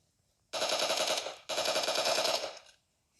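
Automatic gunfire in the PUBG Mobile game on the Livik map, two loud rapid bursts of about a second each separated by a brief gap, close and dominant, then silence.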